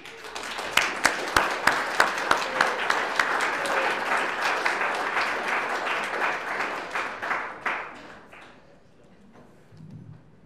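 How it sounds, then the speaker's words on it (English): An audience at a book launch performance breaks into applause, opening with a few sharp rhythmic claps, then a dense, steady burst that fades out after about eight seconds. "So please put your hands together for George Hardwick."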